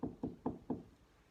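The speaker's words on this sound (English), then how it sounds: "he crept up to the door and knocked." Four evenly spaced knocks on a cottage door, close and fairly soft, with a steady rhythm and a quick wooden thud to each.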